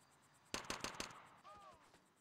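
A quick burst of four or five muffled, suppressed gunshots in rapid succession in a video game, followed by faint electronic chirps and softer game sounds.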